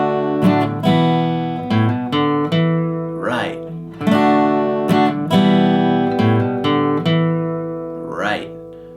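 Acoustic guitar plays an intro riff, a close, loud run of plucked notes and ringing chords with steady phrasing and brief slides between them.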